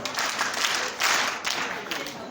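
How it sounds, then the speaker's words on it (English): Audience applause at a Lassa fever sensitization talk, a dense steady patter of many hands clapping with a brief surge near the middle, close and fairly loud. "Round of applause for her."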